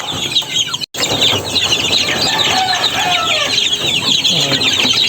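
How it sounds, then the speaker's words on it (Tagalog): Chicks and chickens kept upstairs at a poultry farm, a dense, loud, continuous chorus of high peeping and clucking from many birds close by, with a brief dropout early on. "So ipapakita ko naman yung mga uh, sisiw ko dito sa taas."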